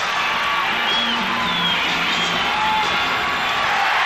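A basketball arena crowd at a Bulls at Pistons playoff game roars steadily before tip-off, a dense, continuous wall of cheering and shouting with no pauses.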